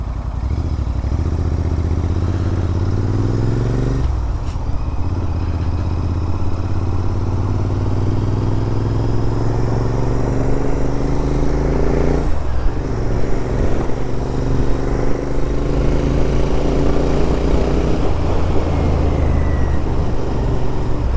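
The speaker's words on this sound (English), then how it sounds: "Morning traffic again." Morning road traffic from the saddle of a Royal Enfield Interceptor 650, its engine droning loud and close with rising revs and gear changes, and wind rush throughout.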